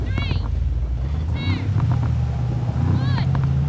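A Mercedes-AMG G63 launching in a drag race gives a steady, loud engine drone, close by, under excited shouts and whoops from people nearby.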